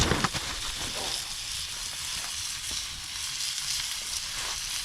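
Food sizzling while cooking over a campfire at a shelter build, a steady close hiss and crackle with a few sharper pops at the start.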